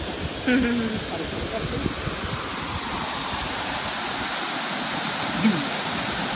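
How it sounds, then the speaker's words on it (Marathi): Rushing water roars in a steady, powerful torrent at the Terna Dam near Dhoki, Dharashiv, with a brief voice and a few faint sounds near the start. "पाण्याचा आवाज"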